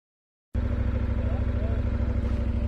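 A KTM 1190 Adventure motorcycle engine, roughly 150 horsepower, runs steadily while carrying two riders on the road, a loud continuous drone with a strong low rumble that starts abruptly and holds even.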